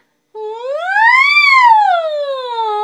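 A single sung voice imitates an ambulance siren as a singing exercise, a loud clear tone that sweeps upward and then glides back down in one continuous wail.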